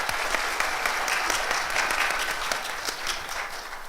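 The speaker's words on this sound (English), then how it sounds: "Would you please give them a big round of applause?" Audience applauding panelists at the close of a banking conference session, a steady, dense burst of clapping from a full room that holds evenly for several seconds without voices.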